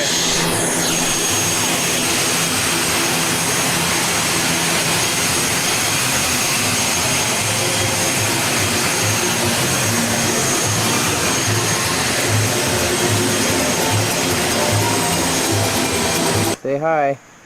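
A jet airplane engine roars loudly and steadily at an airport, a close sustained whine and rumble that continues before cutting off abruptly near the end.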